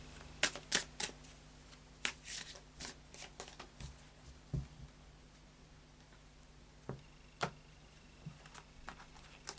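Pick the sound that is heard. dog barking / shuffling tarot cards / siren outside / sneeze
shuffling tarot cards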